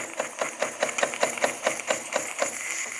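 A Jensen Model 75 toy steam engine runs steadily, its piston chuffing in an even rhythm of about four beats per second over a continuous mechanical whir, close and alone without talk.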